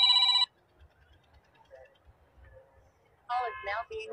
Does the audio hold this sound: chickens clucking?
no